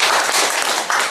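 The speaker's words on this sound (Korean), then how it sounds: "또 박수 치셔야겠습니다." A concert audience of amateur vocal society members gives a brief burst of steady applause, loud and near, with no talking.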